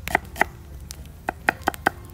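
Vegetables tipped into a container at an outdoor campfire cooking site: a handful of sharp, close knocks and clatters in uneven bursts, no talk.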